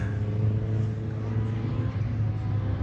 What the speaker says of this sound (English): I can hear a proper engine.